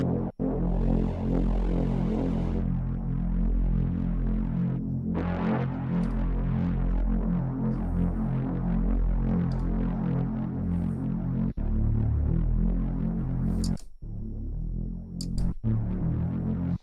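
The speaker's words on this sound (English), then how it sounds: "now we're getting the distortion here." A MicroFreak synthesizer run through a multistomp distortion effect produces a loud, sustained, buzzing drone with a throbbing pulse, holding steady for most of the stretch before dropping out briefly near the end.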